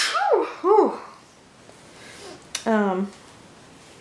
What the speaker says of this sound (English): Uh-oh, I gotta sneeze.